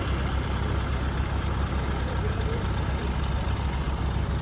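A steady low engine drone runs continuously from a Kubota L50 tractor pulling a stuck watermelon truck, a heavy motor idling or chugging nearby with constant loudness throughout.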